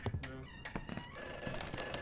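A telephone rings inside a horror video game set in 1958, a trilling bell pattern that repeats in bursts, fairly faint under the game's background sounds, with no talking during the ring.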